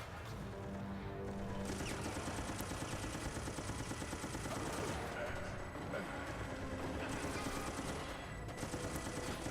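Rapid automatic gunfire in the video game Resident Evil Operation Raccoon City, sustained bursts of shots against an infected enemy, with game effects and voices mixed underneath.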